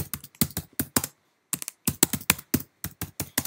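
Typing on a computer keyboard to write a caption, quick bursts of crisp key clicks with a short pause partway through, close and clear with no talking.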